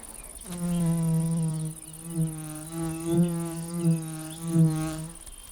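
Yellow-winged sphex digger wasp buzzing close by, a steady droning hum that wavers and pulses slightly in pitch over several seconds, with no other sounds.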